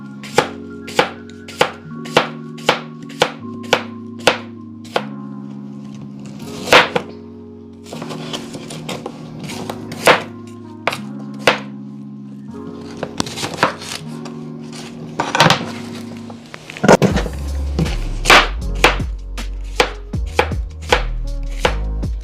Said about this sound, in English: I'm gonna start by cutting up the cucumbers